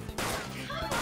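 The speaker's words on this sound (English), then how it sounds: "Shooting the fairy that's on the ground." Gunshots in Persona 5 fired at a fairy enemy, a couple of sharp loud reports in quick succession over busy game sounds.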